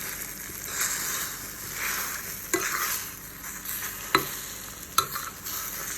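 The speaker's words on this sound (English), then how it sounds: "Started to set a bit, so I'm breaking that up. And continue taking from the edges and letting the uncooked portion flow out." Spatula scraping and breaking up setting scrambled eggs in a frying pan, with soft sizzling under uneven stirring strokes and a few sharp clacks of the utensil against the pan.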